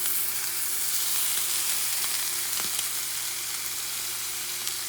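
Elk steak frying in a pan as a butter mixture goes in, producing a dense, steady sizzle with a few faint pops and clicks, close and constant without talk.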